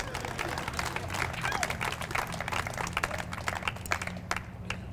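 Audience clapping at a Google Fiber press conference in Salt Lake City, a dense burst of many hands at close range mixed with crowd murmur, thinning out toward the end.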